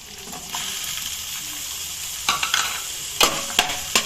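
Onion and tomato fry in a pan with a steady close sizzle, joined partway through by sharp scraping strokes of a spatula stirring against the metal.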